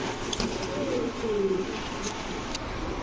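Low, rolling coos from racer pigeons kept at a pigeon farm rise and fall over a constant background murmur, close by but soft, without any speech.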